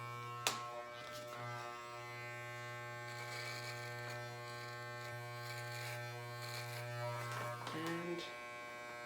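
Electric hair clippers drone with a steady low buzz while cutting hair, close and continuous, with a brief change in tone near the end.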